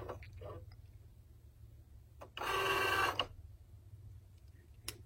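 A Cricut Joy cutting machine works briefly: a quiet low motor hum underlies faint clicks, then a short louder whirring buzz of about a second before it settles back.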